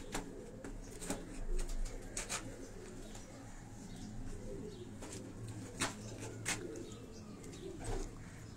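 Pigeons of several bred varieties coo softly in a Karachi loft of high-flying pigeons, low throaty calls repeating at a quiet distance with faint rustling and a few sharp taps.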